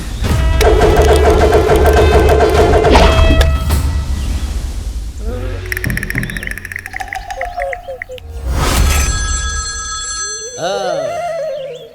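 A telephone ringtone warbles in repeated electronic bursts within a dramatic film scene, backed by music and other sound effects.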